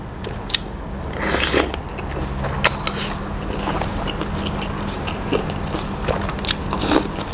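Someone chewing salmon with crunchy salad vegetables close to the mic, with repeated crisp bites and crunches spread irregularly over a quiet background.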